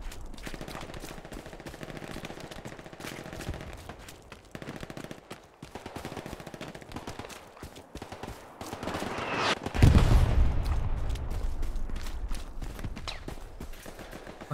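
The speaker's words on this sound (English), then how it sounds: "that artillery's coming in close" Incoming artillery in the World War II shooter Hell Let Loose: a steady rattle of distant gunfire, then a heavy, booming impact with a rumbling tail that lingers over continued firing.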